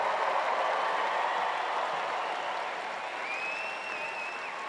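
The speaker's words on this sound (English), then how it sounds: "Let's give all our graduates another huge round of applause for reaching this milestone." Audience in a large university commencement hall applauding graduates, a steady wash of clapping that holds at an even level for several seconds and eases slightly toward the end.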